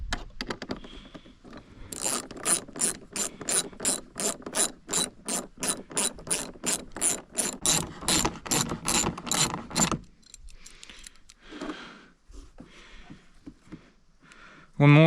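A ratchet clicks in rapid, loud bursts while tightening bolts on Fox Float 3 shocks being installed on a Summit, followed by quieter handling noises and brief speech near the end.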